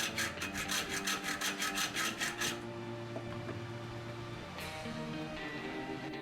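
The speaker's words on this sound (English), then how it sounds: "I clamped it to my vise and cut into the bolt with a hacksaw." Rapid rasping hacksaw strokes cutting into a bolt clamped in a vise, about ten in quick rhythm, then stop, leaving a low steady hum with faint scraping afterward.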